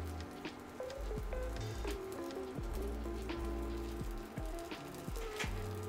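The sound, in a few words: tortillas frying in hot oil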